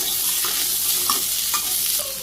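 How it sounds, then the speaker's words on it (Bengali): Pumpkin pieces fry in hot oil in a Bangladeshi village kitchen, making a steady close sizzle with light stirring scrapes and no voices. "এই তেলের মধ্যে আমি এই মিষ্টি কুমড়াগুলো দিয়ে দিলাম"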